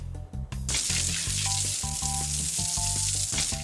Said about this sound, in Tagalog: Sa isang kawali, nagpainit si Dada ng mantika.